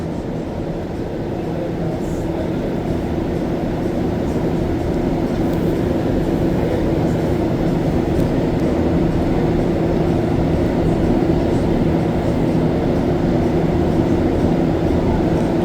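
An MR-73 Montreal Metro train running on the Green Line between Viau and de l'Église stations, heard from inside as a steady, loud low rumble and hum of rubber-tired wheels and motors with no let-up.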